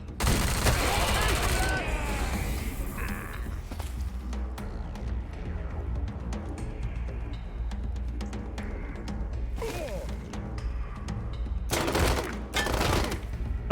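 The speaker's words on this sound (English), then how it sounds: "Suppressing fire." Suppressing gunfire in the Wasteland 3 turn-based combat game, a loud opening burst of rapid automatic shots followed by scattered cracks, thuds and further short volleys over a continuous low battle rumble.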